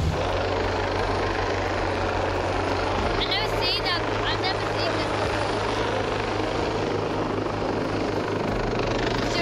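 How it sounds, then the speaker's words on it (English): A helicopter drones loudly and continuously overhead with a steady rotor thrum during an airlift in remote Darwin, while a person speaks briefly over the noise. "I see the helicopter"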